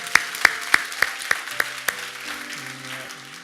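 A church congregation applauds during a Sunday service: a run of about seven sharp, evenly spaced claps in unison that gradually soften, leaving a low steady hum in the room.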